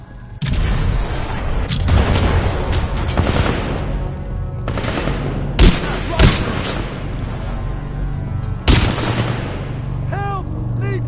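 Frag grenade blasts and rapid gunfire in the first-person shooter Titanfall 2 campaign, with loud sustained shooting broken by several sharp booming explosions over a continuous battle din.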